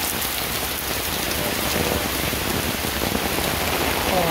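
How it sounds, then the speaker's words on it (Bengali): Heavy rain pouring onto a school field in Gazipur Mawna, a dense, loud, unbroken hiss of drops close by, with no voices over it. "সবাই বৃষ্টিতে ভিজতেছি এখন।"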